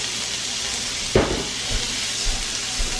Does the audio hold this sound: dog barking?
no